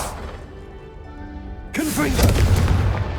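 A Confringo spell from the game Hogwarts Legacy bursts into a loud fiery blast after a low, steady hum. A voice shouts just as the explosion hits, and a rumbling crackle follows.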